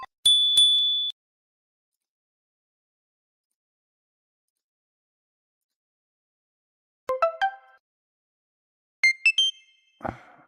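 Short notification sound effect: a bright ding at the start, then after a long silence two quick clusters of clinking, bell-like tones near the end, with no talk.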